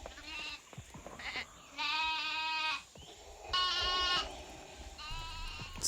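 Sheep bleating in the video game Disney Infinity 3.0, with several loud, drawn-out bleats rising in turn over a busy game soundscape.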